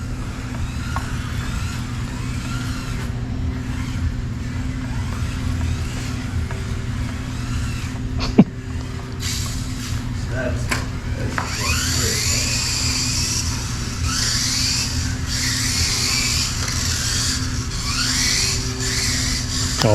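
Kyosho Mazda 787B Mini-Z stock RC car driving steadily with a constant motor whine, tires squealing in repeated sweeping chirps through the middle and later part.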